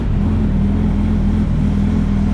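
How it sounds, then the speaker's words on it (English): A 2015 Suzuki Hayabusa motorcycle with a Delkevic exhaust idles on a dyno, a steady, loud, low engine drone with an even pulse and no talk. "let's fire this thing up and see what it sounds like as is with this Delcovic exhaust system"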